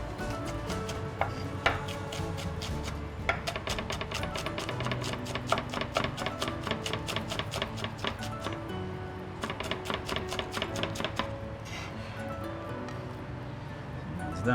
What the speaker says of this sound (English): So all the vegetables I will cut into kind of long julienne.